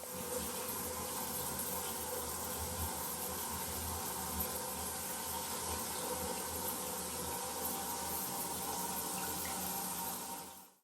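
A motel room shower running with a constant, full rush of water that stays steady and fairly loud from start to finish, then cuts off abruptly at the very end, with no voices.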